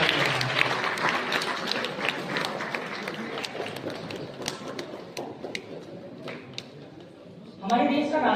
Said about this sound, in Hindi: आप तालियां बजाते रहिए